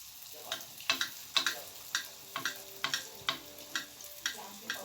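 Dough being fried in a pan brushed with a little oil, giving quiet sizzling under a steady series of sharp clinks and scrapes. No voice is heard.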